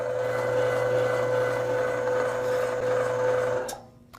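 A LEM electric meat grinder runs steadily as meat is fed through, giving a constant whining motor hum with a strong steady tone for several seconds before it abruptly winds down and stops.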